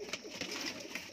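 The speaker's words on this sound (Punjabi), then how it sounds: "ਪਿਓਰ ਕਮੱਗਰ ਕਬੂਤਰ ਹੈ ਬਾਈ" Kamagar breed pigeons coo softly at close range, with a few quiet, brief throaty calls.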